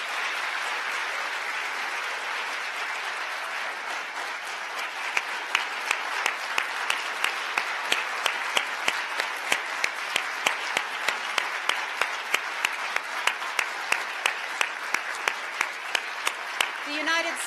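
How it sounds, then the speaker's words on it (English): An audience applauding at the 2018 International Women of Courage Awards ceremony, steady loud clapping from a large crowd that continues throughout, growing slightly sharper toward the end. "Please join me in a final round of applause for this remarkable group of women leaders"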